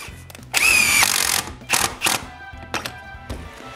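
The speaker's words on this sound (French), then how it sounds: "Puis je visse les 2 vis" A power drill drives two screws into a wooden window frame in a workshop, with a short whirring burst followed by a few brief, intermittent drill runs and clunks.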